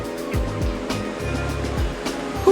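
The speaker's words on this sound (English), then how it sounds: "Or hit the water in this stylish new boat." A small boat rides on open water as waves wash and surge around it, steady and fairly loud, with a sharp knock at the very end.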